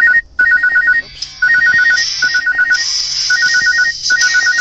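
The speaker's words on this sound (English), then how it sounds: "there's actually a phone number calling in" A phone ringtone sounds through a Ford navigation system for an incoming call, with a loud, repeating electronic chirping pattern broken by brief pauses. No one speaks.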